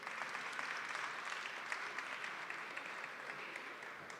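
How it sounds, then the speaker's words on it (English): Audience applause at a Jamaica 60 launch event in Canada, steady clapping from a crowd throughout, fairly even and moderately distant, with no talk over it. "Give her a round of applause."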